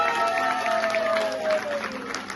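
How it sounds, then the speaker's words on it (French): Audience applause for a yoga performer at a festival event, a dense, steady wash of clapping that fills the short stretch, with a faint tonal hum running beneath it. "on applaudit."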